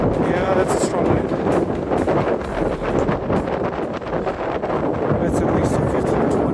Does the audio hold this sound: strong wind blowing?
yes